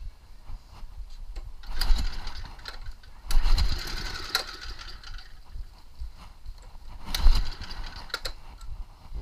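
A snowblower engine fitted to a homemade power wheelbarrow is primed and started outdoors on a chilly day, giving a rough mechanical clatter that surges in several bursts.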